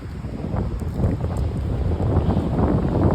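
Strong cold wind blowing at the seashore, a steady loud rush with gusty buffeting across the microphone, and faint water sounds beneath it.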